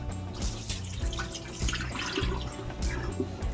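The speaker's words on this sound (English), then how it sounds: "we got our baby spinach. I'm gonna go ahead and rinse that off, get that ready" Baby spinach rinsed under a running kitchen tap, a steady close splash of water with slight shifts as the leaves are moved through the stream, no talking.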